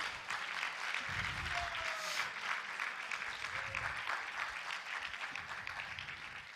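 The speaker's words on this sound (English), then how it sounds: "Can we also give a round of applause to Jai Krishna Prabhu?" At a Rama Navami festival gathering at Bhaktivedanta Manor, an audience claps in a continuous, moderately loud wash of applause, with faint low rumbles underneath.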